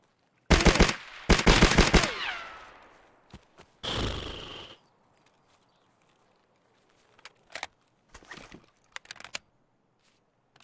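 Shotgun gunfire in the video game Escape From Tarkov: two loud blasts close together, then a third shot a moment later, followed by several fainter clicks and rattles of weapon handling.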